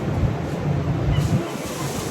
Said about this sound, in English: it is a bit windy